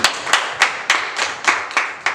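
A church congregation claps in a steady rhythm, about eight sharp, evenly spaced hand claps ringing out close and loud with no voices over them.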